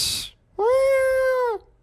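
A voice imitates a cat, giving one long, drawn-out meow that rises then holds steady, loud and close, after a brief hissy breath.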